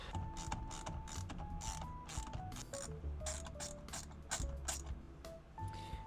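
A hand ratchet clicks in quick repeated bursts while removing the steering wheel airbag bolts on a BMW E36, a quiet, close mechanical pawl chatter with short pauses between strokes.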